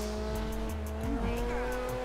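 A Ferrari 430 in GTA 5 accelerates and brakes, its engine note rising and falling with a short burst of tyre squeal, close and loud with no talk over it.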